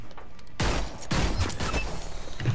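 Gunfire in the video game Hyper Scape: two loud bursts of shots, the first starting about half a second in and the second a moment later, with rattling fire continuing through the rest, no talking.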